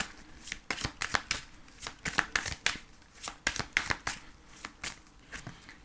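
Angel oracle cards are shuffled close by in a quick, uneven run of crisp riffling flicks and soft slaps, heard alone without any talk.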